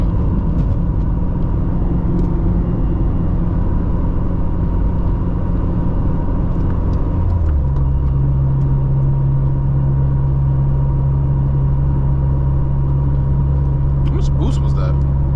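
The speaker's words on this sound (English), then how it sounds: "Car sounds amazing." A 600 HP turbocharged Honda Civic Si engine drones loudly and continuously from inside the car, its steady rumbling pitch dropping to a lower, heavier hum midway as the revs change.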